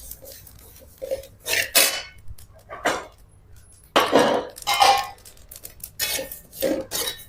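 Whole spices such as poppy seeds and cloves dry-roasting in a pan for Maharashtrian black masala, giving scattered crackles and pops in irregular bursts against a quiet background, with no talk.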